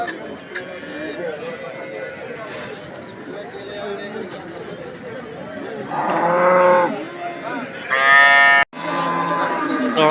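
Cattle at a Sunday cattle market in Anthiyur low with long, loud moos, two strong calls standing out late in the stretch, over a constant murmur of people talking and general market bustle.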